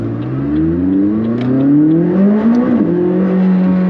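A McLaren 600LT accelerating hard, its engine note climbing steadily in pitch with a brief dip at a gear change before rising again, loud and close with no talk.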